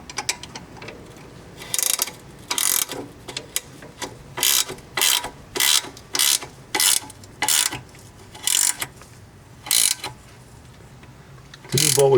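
A hand ratchet snugs up hitch bolts on a 2012 Honda Foreman ATV during a trailer hitch install, giving a series of crisp, close clicking bursts in an irregular rhythm with short pauses between strokes.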